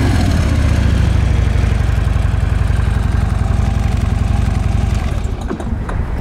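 A Harley-Davidson Ultra Classic FLHTCU with factory exhaust idles close by, a loud, steady, loping low-pitched rumble throughout with a slight dip near the end.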